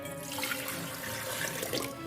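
Water poured into a bowl as the first wet ingredient for carrot cake batter, a steady close splashing stream running throughout without pause.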